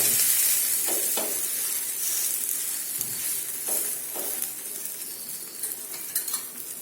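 Cucumber thalipeeth flatbread frying in oil in a pan, a steady sizzle throughout with occasional light clinks and scrapes of a utensil against the pan.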